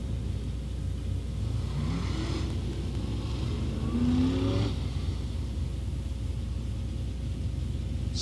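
Late model race cars roar through a heat race at Crossville Raceway, a continuous loud engine drone with rising and falling passes as cars sweep by.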